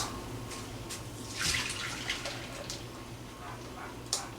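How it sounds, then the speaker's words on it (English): Juice trickles softly through a small strainer into a Pyrex pitcher, a faint, steady pour with a few light splashes and drips. "I normally use a little strainer and like this, and I just strain it"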